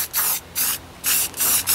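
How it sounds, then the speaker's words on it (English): An aerosol primer spray can, used on Ford 800 tractor parts, gives four short, loud hissing bursts in quick succession, each lasting about a quarter second, with short pauses between them. "I actually got really good at painting with spray bombs."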